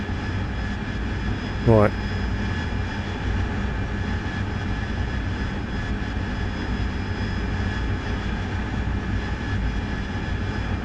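Steady engine drone of an aircraft in the DCS World flight simulator, holding constant throughout with a brief voice cutting in near the start.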